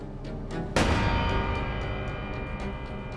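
A single sharp gunshot cracks out, followed by a long fading echo, with faint ticking clicks before and after.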